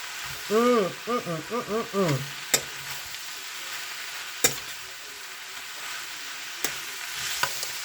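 Cabbage and smoked sausage sizzle in a pan while being stirred, a soft frying hiss broken by a few sharp utensil clacks, with a voice speaking briefly early on.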